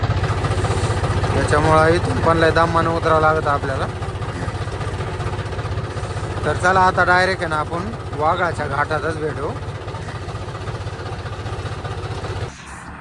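A tractor engine with almost no load drones steadily at close range as it rolls down a steep, soft dirt slope, and someone talks over the continuous rumble.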